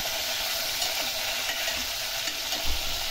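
Stuffed brinjals frying in oil in a pan while being stirred, a continuous near sizzle with occasional scraping and a soft knock near the end.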